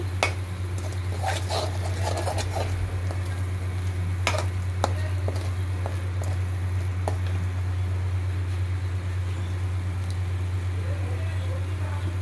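Masala spices sauté in hot oil for a lobster chingri malai curry, giving a steady close sizzle with scattered clicks and scrapes from stirring over a constant low hum.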